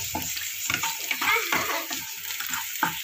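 Onions sautéing in a pan for kanda pohe, close crackling sizzle broken by irregular stirring scrapes of a spoon, short and without talk.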